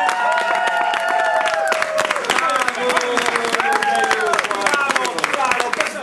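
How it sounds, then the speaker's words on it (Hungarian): Audience at a Purim celebration clapping steadily and loudly for the whole stretch, with children's and adults' voices calling out over the applause. "És egy tripla tapsot kérünk!"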